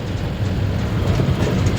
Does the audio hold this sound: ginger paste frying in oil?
no